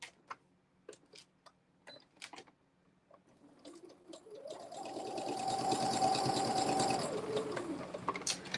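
A sewing machine stitches a quarter-inch seam around a quilt, a few ticking clicks and then a steady, rising whir of close stitching for several seconds.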